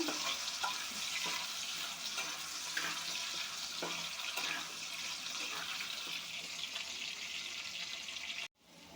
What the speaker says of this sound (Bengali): আলুটা প্রায় ভাজা ভাজা হয়ে গেছে